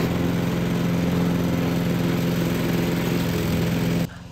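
A lawn mower engine drones loud and steady while cutting grass in a yard, then cuts off abruptly near the end, leaving a quieter background.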